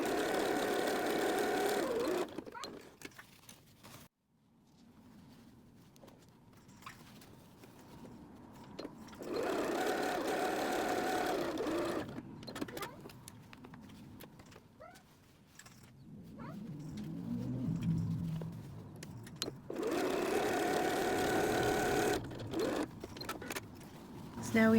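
A sewing machine stitches patchwork floor mat squares together in several separate runs of steady mechanical whirring, with quieter pauses between them. A person talks softly at times.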